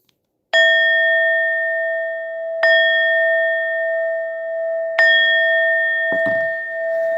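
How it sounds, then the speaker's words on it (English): A small bell rings three times at even intervals, each strike a clear, sustained ding that rings on close by, with a soft knock after the last. "Let me give you a ring of the bell"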